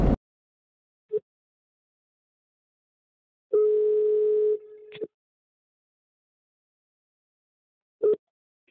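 A telephone line tone plays before a recorded phone call. A short click and a brief beep come first, then a steady tone that lasts about a second and a half, then another short beep, with silence between them.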